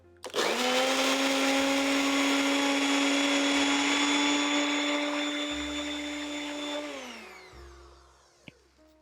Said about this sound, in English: This is 1 cup of rolled oats that we're just going to lightly blend or lightly grind into a flour.